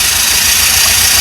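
A 1984 Pontiac Fiero engine, freshly returned to running after a rusty tank replacement, idles roughly and a little unevenly, a steady low rumble with faint uneven pulsing that stays continuous throughout and close by.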